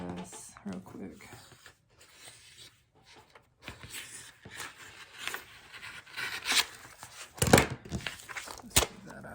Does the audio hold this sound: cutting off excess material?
yes